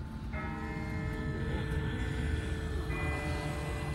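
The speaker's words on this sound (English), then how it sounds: "That's not the same bell as before. This one's further off." A distant bell tolls in The Walking Dead zombie game, its sustained ringing tones hanging over a low, rumbling game ambience. A second strike sounds near the end.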